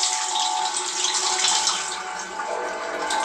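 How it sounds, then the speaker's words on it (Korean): Shower running in an audio drama, a continuous hiss of spraying water that stays fairly loud and steady throughout, with no voices over it. "확실히 샤워 소리도 아직 지속되고 있다."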